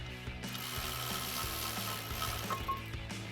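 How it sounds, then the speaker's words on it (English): A hand ratchet with a 17mm socket clicks rapidly and steadily while removing a brake caliper on a 2009-2018 RAM 2500 pickup, close and continuous with no talking. "we'll grab our 17mm socket on our ratchet. Go ahead and pop this off."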